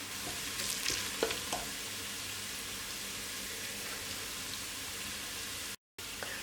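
Sliced onions sizzle steadily in hot oil inside a pressure cooker while cooking for chicken biryani, a dense, close hiss with occasional stirring scrapes and a very brief dropout near the end.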